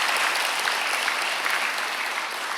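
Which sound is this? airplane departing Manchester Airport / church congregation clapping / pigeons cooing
church congregation clapping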